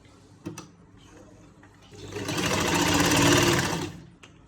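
Sewing machine stitching a lined shirt, a close mechanical whir running fast and steady for about two seconds after a couple of brief clicks, then stopping.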